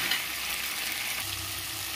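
Chopped tomato fries in a spice masala with turmeric and salt, part of a banana flower dish. A dense, even sizzle hisses up close for a couple of seconds, alone and unbroken.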